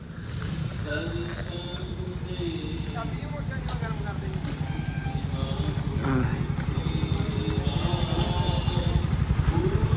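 A motorcycle engine runs steadily nearby, a low throbbing putter that grows slightly louder, while people talk over it.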